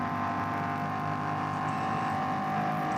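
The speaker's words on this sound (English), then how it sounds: "engine noise is about 2 seconds ahead of picture" BMW race car engine at the Nürburgring during an endurance series race, a loud sustained engine drone with steady tonal whine held continuously, close and without pause, no talking over it.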